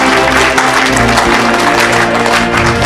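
A church congregation at a deliverance service applauds and cheers loudly, a dense wash of clapping and crowd noise that fills the whole stretch, with music and voices blended underneath.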